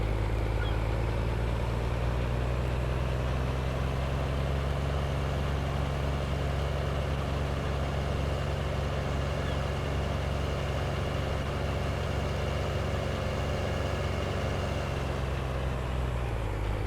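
A fuel truck idles in Farming Simulator 19, its steady low engine drone holding near and even for the whole stretch, with no talk over it.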